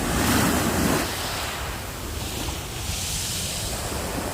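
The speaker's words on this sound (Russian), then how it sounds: "Шум волн успокаивает." Sea waves wash onto the Black Sea shore on a mild winter day, a steady broadband roar with a stronger surge at the start, continuous and close with some wind.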